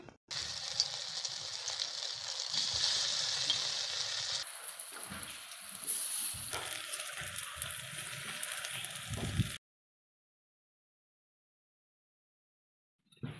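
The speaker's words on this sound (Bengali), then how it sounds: "আমি সব পকোড়াগুলো ভেজে নিব।" Herb-leaf pakoras deep-frying in oil make a continuous crackling sizzle, close and moderately loud, that shifts in texture partway through and then cuts off into silence for the last few seconds.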